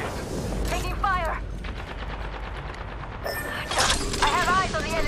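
Automatic weapon fire crackles in Apex Legends, with rapid bursts and metallic clatter under in-game voice callouts, swelling louder toward the end as the firefight intensifies.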